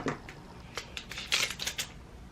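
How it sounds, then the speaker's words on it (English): Small eyebrow scissors snipping and cutting open drugstore makeup packaging, a series of quick crisp clicks and crinkling plastic snips, close and fairly quiet. "using my eyebrow scissors to like cut this open"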